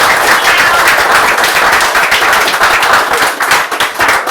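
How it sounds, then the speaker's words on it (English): Dense, steady applause from an audience at a poetry and music evening in the Whitehouse Bar, Limerick, sustained and loud throughout with no voices over it. "We give one more round of applause for Mr. Ciaran O'Driscoll."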